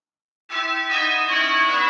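Church bells sound in a bell-ringing simulator playing call changes, starting abruptly after a short silence and then ringing continuously with bright, overlapping tones.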